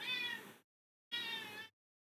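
A pet cat meows twice indoors, two clear, loud cries of similar length separated by a short pause, with silence around them.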